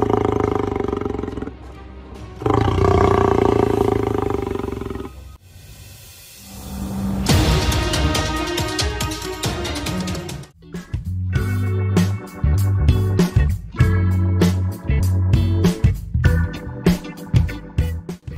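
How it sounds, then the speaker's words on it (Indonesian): Loud lion roars and grunting calls at a safari park, several deep bellowing bursts one after another with brief pauses between, close and powerful. "terdengar dengan sangat jelas suara mengeong para singa tersebut"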